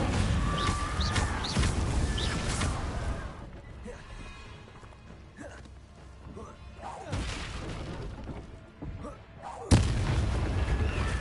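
Incendio fire spell blasts in the game Hogwarts Legacy on PS5, heavy booming bursts and crackling roars, loud and close, separated by a quieter stretch, with a voice speaking briefly.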